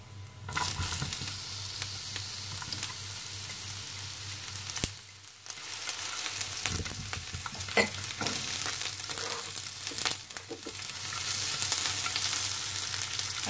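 Onion frying with golden garlic in a pan: a dense, continuous sizzle with occasional spoon taps and stirring scrapes, close by and uninterrupted by speech.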